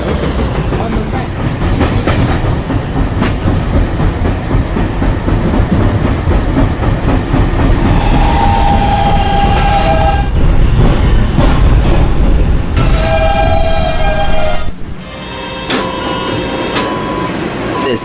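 A PST-3R D subway train stands at 78th Street–Waterside Boulevard station, its steady loud rumble and mechanical hum filling the platform, with brief higher-pitched tonal chimes and door sounds partway through.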